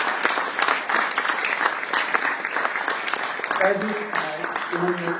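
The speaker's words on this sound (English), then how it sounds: "We get one more round of applause for all of our panelists." An audience applauds panelists at a public discussion event, dense and sustained clapping close by, with a voice speaking briefly near the end as the clapping continues.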